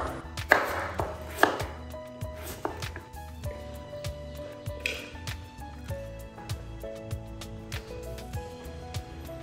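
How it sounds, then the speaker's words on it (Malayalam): A knife slices papaya into thin pieces on a board in a home kitchen. Soft, fairly quick cutting taps repeat close by, with a few sharper knocks and no talking. "പപ്പായ നല്ല കട്ടിയില്ലാതെ കട്ട് ചെയ്തെടുക്കണം"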